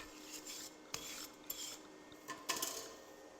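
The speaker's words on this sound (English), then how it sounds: "Let me brush that." A wire brush scrubs a flux core weld on a steel plate in a few short, quiet rasping strokes with small metallic scrapes between pauses.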